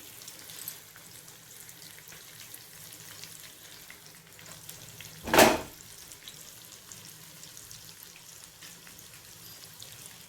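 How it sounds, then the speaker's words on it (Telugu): Onions for a capsicum fry tip into hot oil in a pan, one sharp burst of sizzling in the middle over a faint, steady background hiss, close, with no talking. "ఉల్లిపాయలు వేసేస్తున్నాను"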